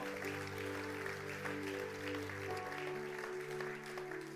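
Applause from a church congregation rises for praise, a soft wash of clapping under steady, sustained music tones, distant and fairly quiet.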